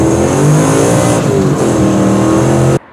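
A rare 1960s muscle car with about 555 horsepower, its engine loud and close, roaring through rising and falling revs with a harmonic growl before cutting off abruptly near the end.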